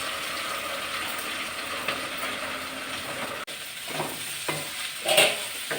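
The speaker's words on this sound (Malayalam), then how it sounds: "തോരൻ ഞാനേ അതൊന്ന് അരച്ചുകൊണ്ട് വരട്ടെ" A mixer grinder runs steadily, grinding ingredients for a ridge gourd thoran with a continuous mechanical whirr. The motor cuts off partway through, followed by a few scattered knocks and clatters.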